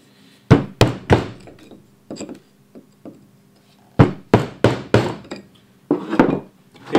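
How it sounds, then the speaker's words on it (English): A rounded chisel driven into wood while carving a relief gives close, hollow knocks in uneven groups, some single and some in quick runs of three or four, with short pauses between. "Start with a nice rounded chisel here."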